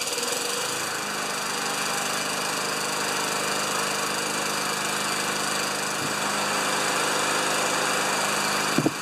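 A lawn mower engine, primed with five pumps after sitting overnight and fitted with an upside-down blade, idles as it warms up: a loud, steady drone with a faint knock near the end and no voices.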